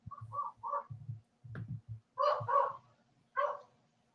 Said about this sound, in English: That's my neighbor's dog going.